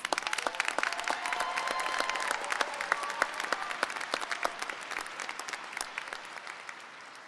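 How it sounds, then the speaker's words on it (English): Applause at the Durham Tech 2026 commencement ceremony: a crowd claps steadily and warmly for several seconds, then thins out and fades toward the end. "One more round of applause."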